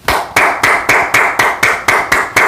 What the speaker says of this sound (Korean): 제가 저에게 대한 박수를 한번 쳐보겠습니다.